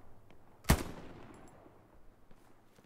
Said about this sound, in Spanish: el de la izquierda está disparando